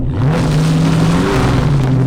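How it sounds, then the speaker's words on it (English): Dodge Scat Pack launching under launch control with its tires spinning: a loud, close engine roar holds a steady high rev for about two seconds, with no speech. "That just roasted the tires."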